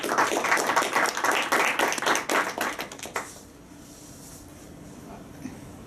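A small audience claps after an academic talk on electronic literature, a few seconds of dense, close hand clapping that thins to scattered claps and then stops, leaving quiet room tone.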